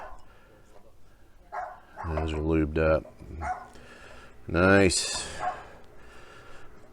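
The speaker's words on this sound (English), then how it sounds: "That's my neighbor's dog." A neighbor's little dog barks a couple of times nearby during a Jeep Wrangler JK front brake job, with someone talking over and between the barks.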